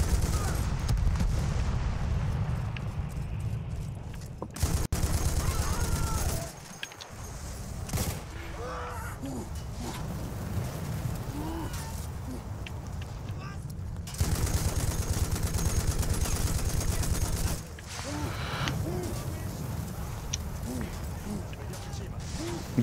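Battlefield 1 battle gunfire, with rapid rattling shots and bursts that run continuously, sometimes dense and sometimes lighter, while players talk over the combat.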